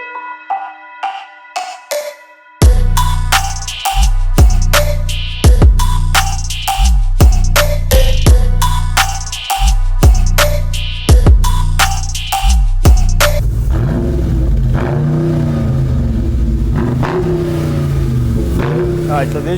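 A brand-new 2022 Dodge Charger Scat Pack with the 392 engine is revved up loud and close, with repeated sharp throttle blips. A sustained rumbling idle follows the blips.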